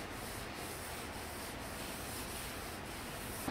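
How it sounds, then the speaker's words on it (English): A clay bar glides across brand-new clear coat on a widebody AMG, making a soft, continuous scratchy rubbing with regular back-and-forth strokes, quiet and close, with no voices. "see what a brand new painted clear coat sounds with clay bar"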